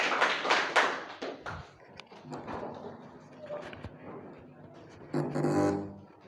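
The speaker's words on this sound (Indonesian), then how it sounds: "tepuk tangan untuk kita semua" A biology class claps for itself, loud claps at the start that give way to scattered taps and shuffling with a faint voice, then a final short burst of clapping.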